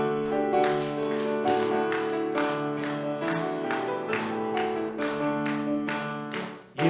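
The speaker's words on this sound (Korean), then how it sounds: "성령 강림절 찬양 192장을 힘차게 박수하시면서 찬양하십시다." A church congregation claps along to a Pentecost hymn in steady rhythmic beats, about two per second, over organ or keyboard accompaniment and singing, loud and sustained throughout.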